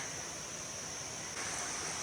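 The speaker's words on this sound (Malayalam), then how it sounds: "ഇതാ നല്ല ഭംഗിയിൽ അരുവി ഇങ്ങനെ ഒഴുകി വരുന്നുണ്ട്" A forest stream near the Champawati waterfalls in Assam flows with a steady, close, even rush of water, unbroken by voices.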